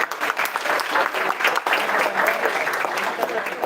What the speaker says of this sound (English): Please clap for your friends.